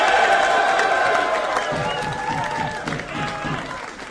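A battle rap audience in Toronto claps and cheers loudly and steadily throughout, a dense wash of applause with scattered whoops, while a few voices talk underneath.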